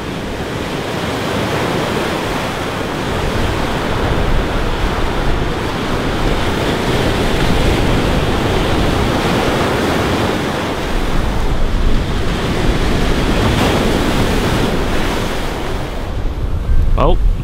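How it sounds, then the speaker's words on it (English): Big ocean waves break and roll in near a ship channel that is closed out by the surf, a steady, loud roar of surf and wind that fills the scene with no pause. "There's some big waves coming in here."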